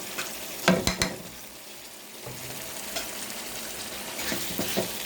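Egg for a Chinese-style dim bhuna cooks in a pan under a steady close sizzle, broken by several sharp scrapes and knocks of stirring.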